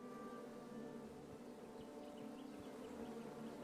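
Bees buzz in King's Quest, a steady droning hum that stays even and moderately close throughout, with a faint mechanical tone underneath and no talking.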